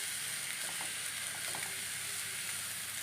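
Ada (ottada) rice batter frying in a hot pan, a soft, continuous sizzle with a few small crackles and pops, close and steady with no voices.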